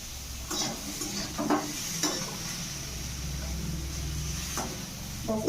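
Potatoes sizzle in a hot pan on a home stove, a soft steady fry broken by a few brief clinks and stirring scrapes, with no voices heard.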